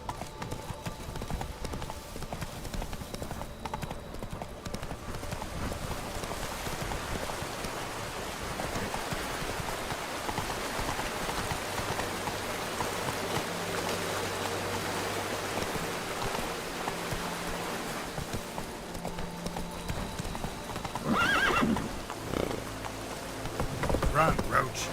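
Roach the horse gallops in The Witcher 3, a steady run of hoofbeats over rain-like ambience under game music and effects.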